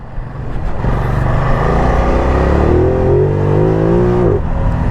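A Ducati Multistrada V2S motorcycle engine pulls hard under acceleration, a loud, steady close-up drone whose pitch climbs smoothly for several seconds before easing off, with no voices over it.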